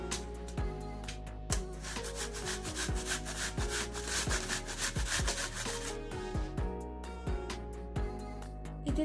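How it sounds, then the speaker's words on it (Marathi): Peeled apples rubbed finely against a hand grater, producing a steady series of quick scraping strokes with a rhythmic rasp, close and continuous without any voices. "आता आपण ही खिसणीच्या साहाय्याने छान असं बारीक खिसून घेऊया."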